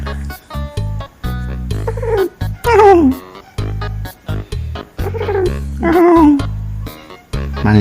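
A house cat gives two drawn-out, complaining meows that slide downward in pitch, loud and close, broken up by quieter rustling in between.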